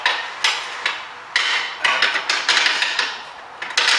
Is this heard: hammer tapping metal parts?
yes